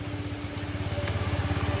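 A motorcycle engine idles close by with a quick, regular thumping pulse that grows slightly steadier, brought out by a rider in rainy weather.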